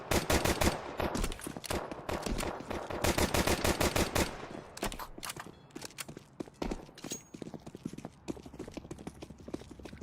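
Rapid bursts of gunfire in Counter-Strike 2, dense repeated shots loud for the first four seconds, then sparser scattered shots and clicks over game ambience.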